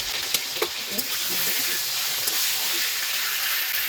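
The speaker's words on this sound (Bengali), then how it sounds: "এবার আলুটাকে ভেজে নেব, কড়াই তেল দিয়ে দেবো।" Potato pieces fry in oil in a wok, producing a steady, close hiss and sizzle with a few sharp pops near the start and no talking.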